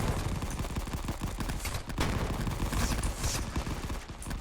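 Grenade explosions and gunfire in the video game Rising Front: a dense, continuous barrage of rapid shots and booming blasts, loud and close with no pauses.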